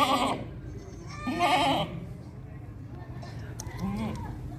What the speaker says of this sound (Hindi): और लास्ट में ये बकरी खड़ी हुई है।